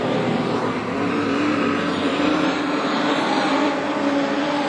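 Production sedan race cars lap a speedway in a night final, their engines giving a loud continuous roar with no break and little else audible.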